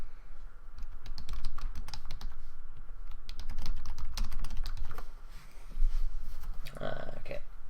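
Fast, continuous typing on a computer keyboard, dense close clatter of keys running through the whole stretch over a low background hum, with a brief faint voice-like sound near the end.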